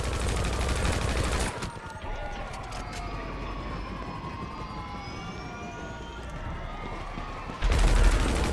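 Gunfire in Grand Theft Auto V during a prison contract mission, bursts of shots at the start and end over wailing police sirens that sweep up and down in the background, fairly quiet overall.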